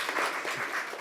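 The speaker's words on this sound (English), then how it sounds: "Shall we give her a clap? I feel like we should clap." Brief burst of audience clapping at a photography talk, a dense wash of hands applauding with no voices over it.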